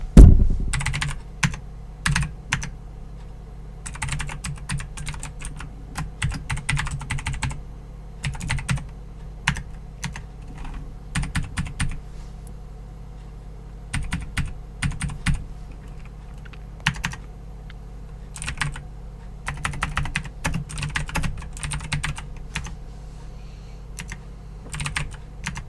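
Dummy details are typed on a computer keyboard in quick clustered bursts of close, crisp key clicks, broken by short pauses, over a faint steady hum.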